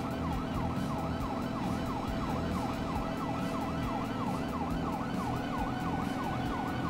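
A police bike's siren in GTA Online wails in a fast, steady up-and-down cycle, loud and continuous over a low engine rumble, with no voices.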